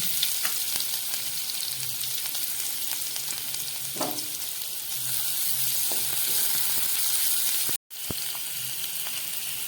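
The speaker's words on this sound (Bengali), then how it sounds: "এবার এর মধ্যে আমি দিয়ে দেবো কেটে রাখা কিছুটা পেঁয়াজ, আর দিয়ে দিচ্ছি কিছুটা কুচনো রসুন" Chopped onion and minced garlic hit hot oil in a pan and fry with a steady, close sizzle, with a few scraping stir sounds partway through and a brief drop out near the end. No talking.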